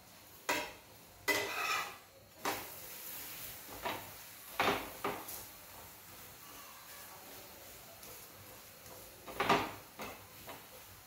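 A bottle gourd paratha roasts with oil on a pan, a faint sizzle broken by intermittent close scrapes and clinks from the spatula.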